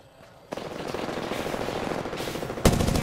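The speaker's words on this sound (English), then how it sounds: "They spotted me. I'm taking shots." Rapid automatic gunfire from the Apex Legends video game, a loud, continuous burst of shots that starts after a brief quiet moment and intensifies near the end with a sharper, heavier volley.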